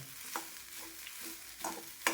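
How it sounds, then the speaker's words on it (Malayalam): A spatula stirs grated coconut roasting in a pan until lightly browned for a dried fish sambar, giving soft, irregular scrapes with a faint sizzle underneath, fairly quiet and with no voices. "ചെറിയൊരു ബ്രൗൺ കളർ ആവുന്ന കാര്യം നമുക്കിങ്ങനെ ഇളക്കി കൊടുത്തുകൊണ്ടിരിക്കാം"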